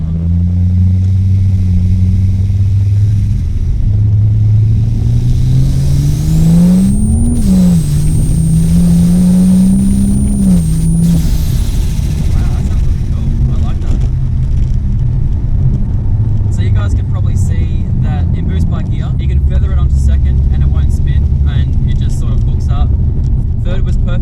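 A 620 hp turbocharged Ford Falcon pulls hard in second gear, its engine note climbing loudly and steadily, dipping briefly at a shift, with a high turbo whine above, then settling into a rough, drumming roar as talk continues over it.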